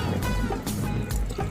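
Rainwater dripping and trickling, a steady close splatter of drops with a few sharper splashes, continuous and fairly loud.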